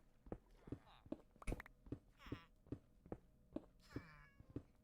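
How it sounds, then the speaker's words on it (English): Minecraft cat meowing several times in a blocky game world, short rising-falling mews mixed with rhythmic footsteps and a faint voice in the background. "Definitely heard a cat."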